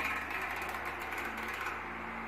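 An electric fan, being used as a homemade cooler for an egg incubator, runs steadily with a close, constant whirring hum and airy rush and a faint tonal drone, with no talking.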